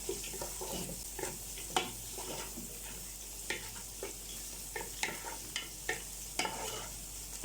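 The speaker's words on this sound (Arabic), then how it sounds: "ابدا احطهم كده مع البصل والثوم اهو. ياخدوا تشويحه برده بتاع 3 4 دقايق كده مع بعض." Okra sautéing in a pan with onion and garlic, a soft steady sizzle broken by repeated scraping stirs of a utensil, close and fairly quiet with no talk.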